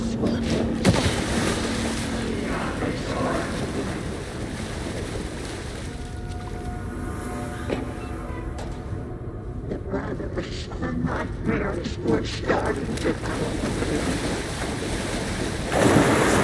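Water and waves in the video game Alan Wake II: constant rushing surf and wind-like noise, loud and sustained throughout, with occasional splashes.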